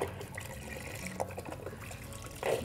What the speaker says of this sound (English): I can just pour it all in.